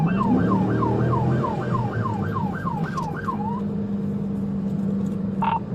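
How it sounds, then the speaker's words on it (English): A police car siren wails in a rapid rising-and-falling yelp during a traffic stop, loud and close over steady engine and road rumble, then cuts off, leaving the vehicle noise. "Deputy Meeks activated his lights and sirens to initiate a traffic stop."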